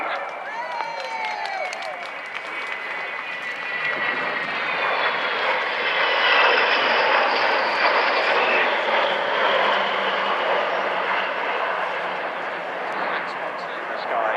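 Avro Vulcan XH558 jet bomber passing over at the Bournemouth Air Festival, a powerful, sustained roaring jet engine that swells to a peak and holds loud, with crowd applause mixed in near the start.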